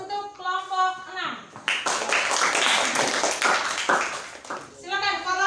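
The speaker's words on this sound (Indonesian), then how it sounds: "Beri aplaus untuk kelompok 6." A classroom group claps and applauds for about four seconds, a burst of many hands that starts and stops abruptly. Children's and a teacher's voices talk before and after it.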